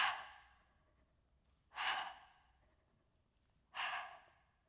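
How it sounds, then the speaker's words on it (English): Three deliberate breathy exhales during a wall Pilates core exercise, spaced about two seconds apart, each a soft close rush of air that trails off. "Try to give me an exhale here."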